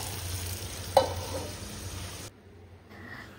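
Potatoes fry in a pan with a close, steady sizzling hiss and a brief stir or clink near the start. The hiss then cuts off into a much quieter background.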